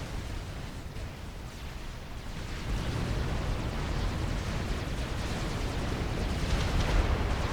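Artillery explosions in the video game Forged Alliance form a dense, continuous rumbling roar that swells slightly partway through and stays loud, with no voices.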